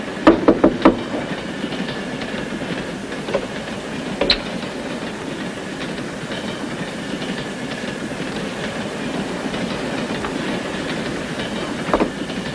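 A train rumbles steadily along the rails, with a few rhythmic clacks at the start and occasional sharp clunks over a continuous rolling drone.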